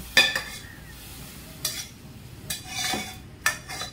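Dry fruits being stirred into a warm jaggery mixture in a pot, heard as several sharp spoon scrapes and clinks against the vessel over a faint sizzle, with quiet gaps between strokes.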